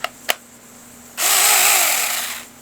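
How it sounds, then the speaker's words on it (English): A Saker battery-powered mini hand chainsaw, running on a 20-volt lithium-ion battery, whirs steadily at close range for over a second after two sharp clicks, then spins down. "this company, Saker, sent me this cool little hand chainsaw"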